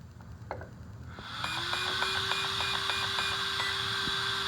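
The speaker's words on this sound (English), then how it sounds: "it'll also make a beeping sound every time it flashes" Steady electronic beeps from an Arrma RC car's electronic speed controller during initial setup pulse in a regular rhythm over a constant high-pitched whine and low motor hum, close and fairly loud, with no talking.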